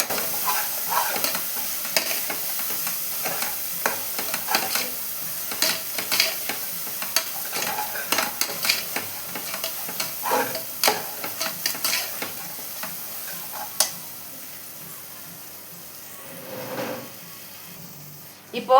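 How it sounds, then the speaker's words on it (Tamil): Ginger garlic paste frying in a pan for chicken biryani while a spoon stirs it, giving a soft sizzle under repeated scraping strokes that come in irregular bursts, fairly close and moderate in level. "இஞ்சி பூண்டு பேஸ்ட்டை சேர்த்து ஒரு 2 நிமிஷம் நல்லா கை விடாமல் கிண்டிகிட்டே இருங்க"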